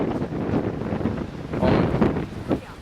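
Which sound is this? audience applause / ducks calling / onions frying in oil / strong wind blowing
strong wind blowing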